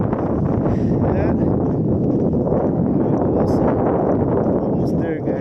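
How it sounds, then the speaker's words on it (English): Steady wind buffets the microphone outdoors on a windy evening, a constant loud low rumble with faint rustling throughout. "it's a bit windy"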